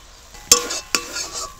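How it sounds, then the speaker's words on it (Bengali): Spoon or spatula scraping and knocking against a pan while tomato is stirred with coriander and turmeric powder in oil, two sharp clinks over a soft background hiss. "এবার ভালো করে এটাকে কষছি তেলের সাথে, টমেটোর কাঁচা গন্ধটা ভালো করে চলে যাবে।"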